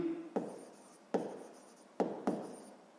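A pen scratches out a math solution on paper in four short, distinct stroke bursts, each starting sharply and trailing off, close and fairly quiet with no talking.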